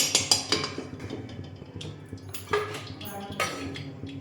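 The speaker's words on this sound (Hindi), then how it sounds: "थोड़ा सा और मैं घी ले लेती हूँ" A metal spoon scoops pure cow's desi ghee and tips it into a kadhai, giving a few soft clinks and scrapes of spoon on the pan at close range, with quiet kitchen clatter around them.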